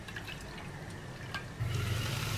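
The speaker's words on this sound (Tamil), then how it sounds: "இதில் வந்து நான் கொஞ்சம் தண்ணி ஆட் பண்ணி" Water poured into cooking sambar pulp for a Pongal lunch kadamba sambar, a soft, faint splashing that swells slightly louder in the last second over a low kitchen hum.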